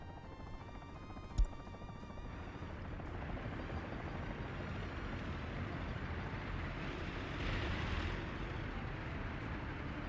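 A helicopter in the Workers and Resources video game flies on after lifting off from a helipad. After a sharp click, its rotor rumble grows gradually into a steady whirring drone.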